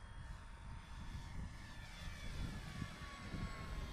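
Dynam BF 109 radio-controlled model airplane flying overhead outdoors, a steady distant engine drone with a slowly wavering tone that runs unbroken under light wind noise.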